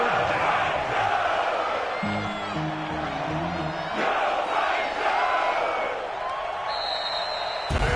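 A stadium crowd in a PS4 football video game roars in a steady, dense wash of cheering that runs throughout, with a brief horn-like tone partway in.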